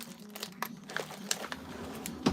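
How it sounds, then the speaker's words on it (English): Cardboard box being cut open with scissors, giving a close run of dry crinkling and crunching snips and scrapes, fairly quiet and without talk. "I need to get my scissors and cut this"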